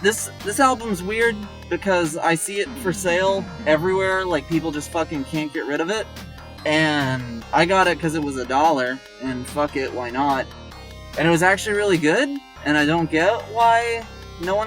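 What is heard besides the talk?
No everyday noise stands out behind the speech.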